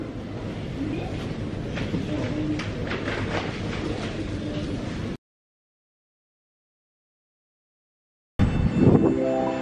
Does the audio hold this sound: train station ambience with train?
yes